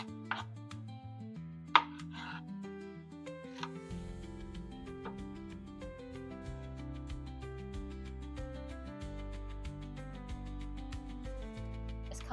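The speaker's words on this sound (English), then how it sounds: "So we're going to go ahead and get this jalapeno diced up." A knife dices a jalapeno on a cutting board in quick, regular chops, faint and close under prominent background music.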